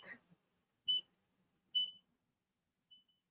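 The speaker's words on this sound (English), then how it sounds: "I want to stop this from beeping at me" An embroidery machine gives three sharp, clear electronic beeps at even intervals, followed by a fainter fourth, in an otherwise quiet room.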